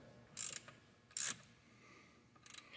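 Ratchet wrench loosening a bolt on the alternator of a 2004 Subaru Forester, heard as three short, fairly quiet bursts of rapid ratchet clicking separated by pauses.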